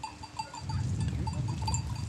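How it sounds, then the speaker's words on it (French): A flock of Turkish sheep wearing bells moves with its shepherd in wild open country, soft clanks of bells ringing irregularly over a low rumble of hooves and wind. "on a un troupeau de moutons turcs avec le berger"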